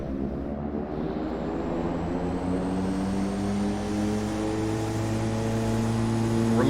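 T-6A Texan II turboprop engine in the Prepar3D flight simulator spooling up at takeoff power, a steady loud drone rising gradually in pitch with no talk.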